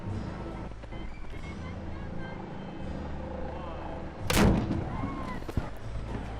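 At the start of the 2016 Ironman World Championship women's race in Kona, Hawaii, a starting cannon fires once with a sharp, loud boom and brief rumble, amid boat engine noise and a commentator talking.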